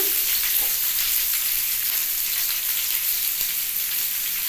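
Okra and potatoes fry in a pan with salt, giving a loud, continuous close-up sizzle with faint stirring scrapes and no pauses throughout.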